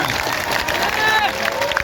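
Audience clapping on request at a live comedy show, a dense continuous wash of many hands with crowd murmur and voices blended in, loud and steady from start to finish.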